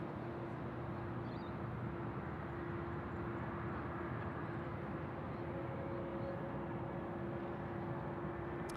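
Air New Zealand flight 102 taking off from runway 34 right at Sydney Airport, a distant, steady jet engine roar and hum held at low level throughout, with no voices.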